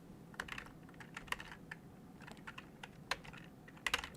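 Keyboard shortcuts tapped on a computer keyboard while animating, quiet scattered key clicks in irregular bursts with a few sharper presses, close and alone.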